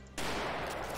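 Soldiers' gunfire in the game Mount and Blade 1866 breaks out as a sudden loud burst that swells into a dense, continuous roar of overlapping shots, filling the short moment without voices.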